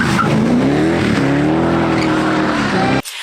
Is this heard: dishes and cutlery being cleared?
no